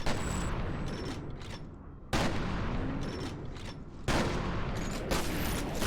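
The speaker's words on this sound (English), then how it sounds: "Just swap to your shotgun and use slow-mo." Shotgun gunfire in the video game F.E.A.R., three heavy booming blasts spaced about two seconds apart, each followed by a dense rumbling slow-motion decay, loud and close with no talk.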